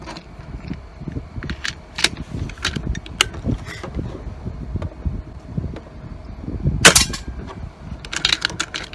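Air rifle shots are fired quickly from a magazine outdoors: a string of sharp, snappy cracks and mechanical clicks in irregular succession over wind noise on the microphone.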